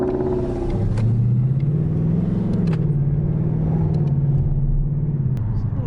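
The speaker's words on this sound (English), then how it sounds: "I'm driving a Mustang." A Ford Mustang's engine hums in a low, steady drone from inside the car, pitch rising and falling slightly with the throttle, and a few soft clicks and voices sit on top.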